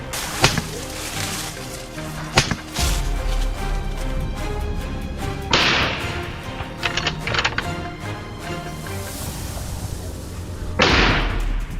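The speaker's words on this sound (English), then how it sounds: "We set up an ambush outside and opened fire immediately." Gunshots ring out at wild boars during a hunt ambush outside a cornfield, several sharp loud cracks spaced seconds apart over continuous rustling and background noise.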